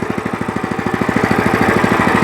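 A WEIMA WM900M-3 walk-behind tractor engine running in reverse gear, a loud, close, rapid steady single-cylinder chug with even pulsing that builds slightly, no speech.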